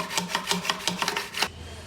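A flat file rasps in quick repeated strokes along the edge of a wooden guitar body made from old stage floorboards, about eight close, even scrapes before it stops abruptly.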